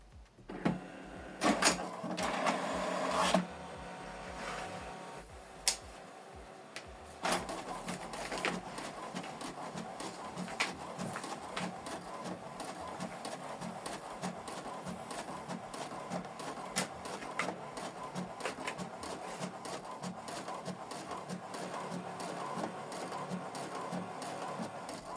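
An HP Deskjet 4310 printer making a colour copy: a few loud mechanical clunks and whirs at the start, then a long steady mechanical whirring and clicking of the print run continuing throughout.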